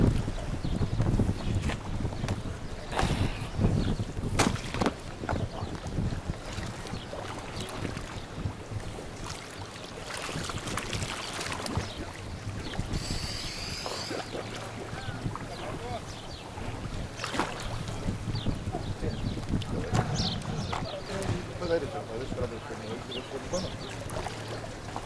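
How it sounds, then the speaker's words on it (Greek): Wind buffets a microphone outdoors on Karpathos during a spring cleanup, making a low, continuous rumble throughout, with scattered knocks and thuds and people talking in the background. "Δεν βγαίνει καλά. Ο αέρας."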